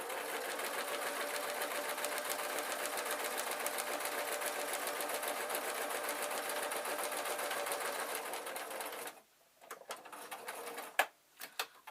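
A sewing machine runs at a fast, steady hum while sewing the corners of a hard-wearing peg bag, then stops abruptly, followed by a few quiet clicks and handling sounds.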